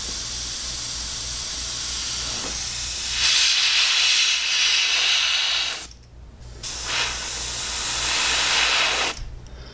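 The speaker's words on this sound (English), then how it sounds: "this is where I was having trouble with controlling my airbrush yesterday" An airbrush sprays paint in a sustained airy hiss that swells louder midway, cuts out briefly, then resumes before stopping near the end.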